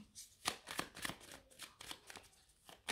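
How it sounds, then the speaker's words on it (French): Tarot cards are shuffled and laid out up close in a series of crisp, quick flicks and snaps, each burst short and separate, quiet overall with no talking. "Je vais remettre une carte sur la ruine."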